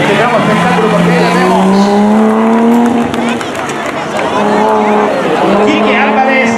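A BMW 323 classic rally car on a spectacle stage of the Maspalomas rally sweeps past loud and close, its engine note rising and falling with gear changes, ending with a fading pass and faint tyre scrub.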